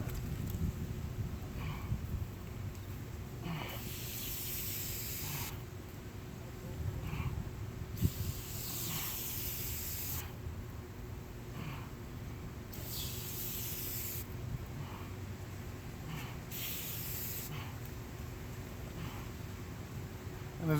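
A can of degreaser sprays onto a motorcycle chain in about five short hissing bursts, close by, separated by quiet pauses over a faint background hum.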